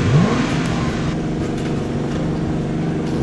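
A motorcycle engine in the video game Ride for Tips hums and revs steadily at moderate volume, a sluggish continuous drone with a brief rising pitch at the start and no talk.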